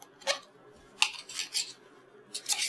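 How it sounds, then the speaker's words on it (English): A pastry blender cuts butter into rugelach dough in a bowl, giving a few sharp metallic clinks and scrapes in irregular bursts against quiet, with no voices. "You may have to clean off this pastry blender a couple of times."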